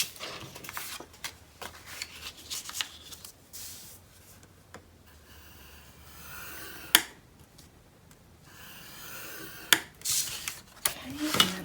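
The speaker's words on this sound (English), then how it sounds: "We're going to score our flat pieces." A scoring tool is drawn along flat paper pieces, marking a half-inch line on the short edge, in faint, close, intermittent scraping strokes with a few sharp clicks and no talking.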